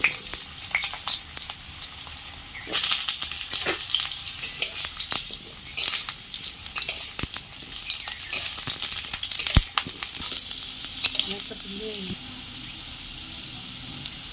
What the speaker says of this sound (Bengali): দেখুন আলুগুলো আমি লাল করে ভেজে নিয়েছি।